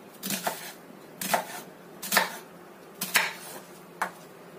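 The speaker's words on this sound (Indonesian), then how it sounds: "Pakai setengah butir bawang bombay, ukuran kecil aja. Kita cop-cop." A knife chops half a small onion on a board, striking about five times in a slow, uneven rhythm, each cut a crisp, clattering knock, close and clear against quiet.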